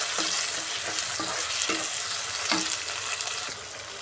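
Tomatoes soften and fry in a pan while a bottle gourd mutton curry cooks, giving a steady close sizzle with occasional light stirring taps.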